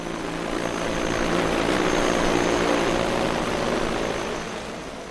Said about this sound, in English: testing the accuracy of a spray drone, which you can hear zooming by in the audio